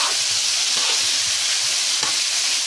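Shrimp sizzle and fry in a pan for a creole coconut-milk fricassee, giving a steady, loud hiss that runs unbroken from start to finish, with no voices over it.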